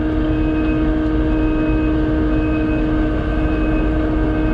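A Kubota SVL90-2 skid loader drives slowly while spreading topsoil for a new lawn, its engine a steady, loud, close drone that never lets up.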